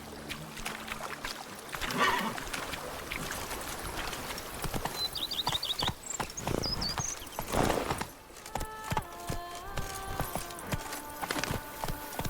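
Hooves of Geralt's horse Roach clop along at a gallop in The Witcher 3: Wild Hunt – Blood and Wine, steady rhythmic hoofbeats close by over game ambience, with occasional chimes and effects.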